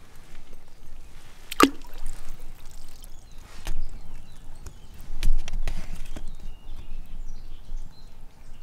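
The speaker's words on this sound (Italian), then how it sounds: "La butto nell'acqua accesa, vediamo che succede." A switched-on WowTac A7 tactical EDC flashlight is tossed into water, making one short, close splash early on, followed by faint trickling and bubbling with no one talking.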